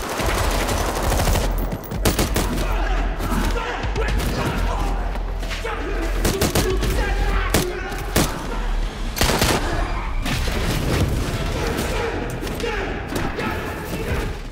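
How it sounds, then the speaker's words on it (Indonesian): Brutal film shootout with dense bursts of automatic gunfire and heavy thuds, loud and rapid, cutting in and out in sharp volleys across the scene with some voices mixed in. "Dan baku tembak pun terjadi dengan sangat brutal."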